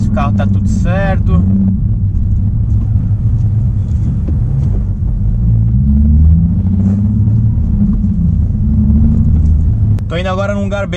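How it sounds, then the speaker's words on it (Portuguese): A Nissan 370Z sits in city traffic with a deep, steady engine rumble as it gets a light rev. The low drone swells slightly midway, and someone talks briefly at the start and end. "Aquela acelerada de leve pra ver se o carro tá tudo certo."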